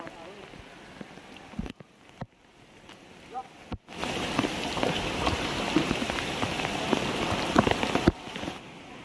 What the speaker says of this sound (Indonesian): Teman-teman, hujan pun turun.